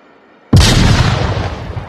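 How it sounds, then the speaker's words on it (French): A grenade blast in the VR shooter Onward hits suddenly and loud after a quiet moment, a deep booming burst that rolls on with a long rumbling, crackling decay. "Ils avaient balancé une grenade."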